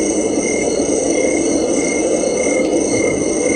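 Summer night frog chorus from a relaxation sound machine, a dense continuous croaking drone with steady high insect-like tones, loud and unbroken over a few seconds.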